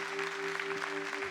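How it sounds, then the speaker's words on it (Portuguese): Applause from a church congregation during a sermon, a soft broadband patter of many hands spread evenly across the moment, with a steady sustained organ or keyboard chord held underneath. "Aplauda a palavra de Deus"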